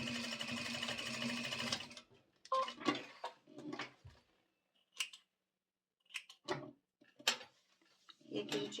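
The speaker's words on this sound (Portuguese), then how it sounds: "aqui a gente passa um retrocesso bem reforçado" A sewing machine stitches a reinforced backstitch on a zippered pouch, opening with a long dense whirring run, then short stop-start bursts of stitching in reverse and forward, close by with a voice talking between the bursts.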